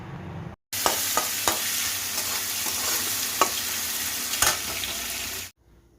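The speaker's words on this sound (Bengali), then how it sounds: "এখন কড়াইতে তেল দিয়ে এই পেঁয়াজগুলোকে ভেজে নেব হালকা করে।" Onions frying lightly in hot oil in a wok (kadai) give a steady loud sizzle with a few sharp clinks of stirring, starting abruptly and cutting off near the end; no voices.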